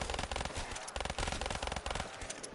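Rapid automatic gunfire from a Call of Duty zombies game, dense bursts of shots firing almost continuously and loud throughout, with brief dips between volleys.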